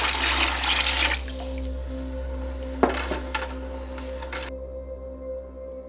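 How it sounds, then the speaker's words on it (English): Water runs from a tap for bread dough made with sugar and yeast, a loud gushing stream at first that settles into a steady flow with a few drips and clinks, over a constant low hum. "add our 2 cups of water and sugar with yeast"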